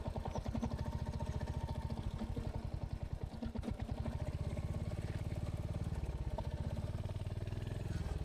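A motorcycle engine idles steadily up close as the bike is parked on arrival at Shivneri Fort, a continuous low chugging pulse with no talk over it.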